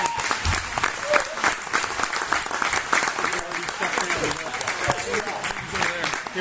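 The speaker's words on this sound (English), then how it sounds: "So how about a round of applause for Tom?" Sustained applause from a crowd, dense steady clapping throughout with some voices mixed in.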